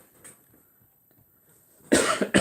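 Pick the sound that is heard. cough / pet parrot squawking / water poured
cough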